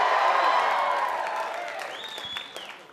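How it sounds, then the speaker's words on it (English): A comedy club crowd applauds and cheers, dense clapping and whoops strongest at the start and slowly fading over a few seconds, with a single high whistle near the end. "Wow, listen to this crowd."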